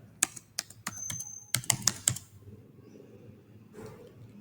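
Computer keyboard keys clicked in a short burst of separate taps, close and crisp, while a search keyword is entered for a Fiverr gig, then quiet room noise.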